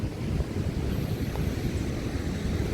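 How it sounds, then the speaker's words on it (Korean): Ocean waves roll onto the beach at Gangneung in a steady, dense low roar of surf with wind noise across the microphone, continuous and fairly loud, with no voices. "혹시 집에서 그냥 파도 ASMR 들으면 안 될까?"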